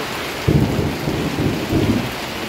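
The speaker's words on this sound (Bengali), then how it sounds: "আকাশ কেমন ডাকছে" Thunder rumbles in low rolling bursts over a steady wash of falling rain from the edge of Cyclone Remal.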